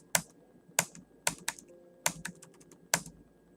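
Keys on a computer keyboard are struck in sparse, irregular bursts of sharp clicks during accounting data entry, with short pauses between the groups of keystrokes in a quiet room.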